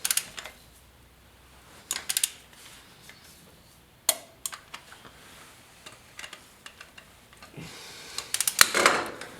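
A torque wrench tightens intake manifold bolts on a 454 engine while an Edelbrock intake is fitted, giving scattered sharp clicks and ratchet ticks at close range, with a denser cluster of clicks near the end.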